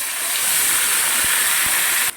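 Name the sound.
marinated chicken sizzling as added to hot pan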